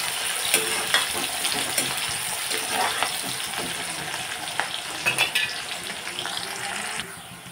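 Onions and green chilies sizzle in a pan after browned garlic for aloo palak, a constant moderate frying hiss with scattered crackles and light stirring scrapes.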